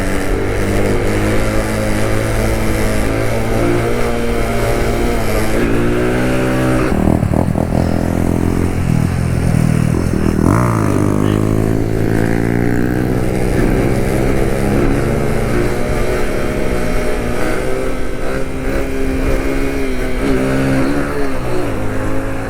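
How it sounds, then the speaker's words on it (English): A Kawasaki Z125 motorcycle fitted with an aftermarket straight-pipe exhaust revs loud and close, engine note climbing and dropping through repeated throttle blips and sustained acceleration, heard alone without talk. "switching from a stock exhaust to just a aftermarket kind of straight pipe type exhaust"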